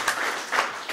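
Audience applause at a commemorative event on Italian paratroopers, a short burst of broad clapping from a room of people, fairly close and steady with a slight swell near the end.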